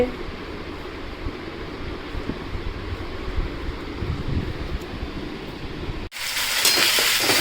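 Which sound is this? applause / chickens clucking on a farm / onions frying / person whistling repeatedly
onions frying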